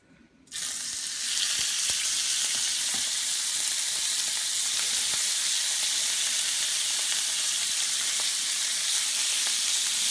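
Pork chops searing in a hot pan beside an apple and onion sauce, a loud steady sizzle that bursts in at the start and then holds continuously and close, with no voices.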